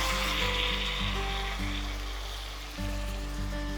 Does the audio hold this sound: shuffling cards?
no